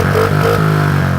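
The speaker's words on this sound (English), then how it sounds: "It's all cleaned up. It's idling great." A Honda CRF50F four-stroke motorcycle engine idles just after its carburetor was cleaned, giving a close, steady, even-pulsed putter for a brief moment.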